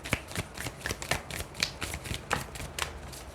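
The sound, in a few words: shuffling tarot cards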